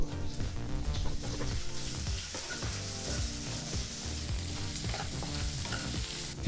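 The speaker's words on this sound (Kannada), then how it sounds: "ಈಗ ಒಂದು ಈರುಳ್ಳಿನ ಈ ರೀತಿ ಚಿಕ್ಕದಾಗಿ ಕಟ್ ಮಾಡಿ ಬಾಣಲಿಗೆ ಹಾಕಿ ಇದನ್ನು ಸಹ ಒಂದೆರಡರಿಂದ ಮೂರು ನಿಮಿಷ ಲೋ ಫ್ಲೇಮಲ್ಲೇ ಫ್ರೈ ಮಾಡ್ಕೋಬೇಕು" Finely chopped onion fries gently in a pan on low flame for moong dal saaru, with a steady soft sizzle and faint stirring that stay fairly quiet and even throughout, and no one speaking.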